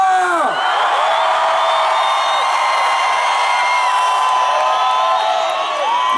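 A huge open-air concert crowd at the Rock al Parque festival in Bogotá, awaiting a performer, screams and shouts continuously, a loud, dense wall of cheering and whoops throughout.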